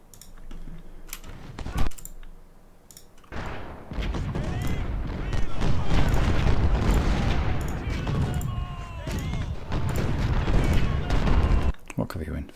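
Cannon fire in the Civil War strategy game Ultimate General: Civil War around Saunders Farm, heavy booming volleys and rumbling artillery rolling in repeated bursts over a busy battlefield din, with someone talking over it.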